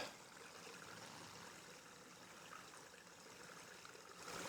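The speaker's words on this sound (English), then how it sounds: "Beautiful, moon and running water." A woodland stream running at night under the moon, a faint, continuous hiss and gurgle of flowing water that stays even throughout, with no voices.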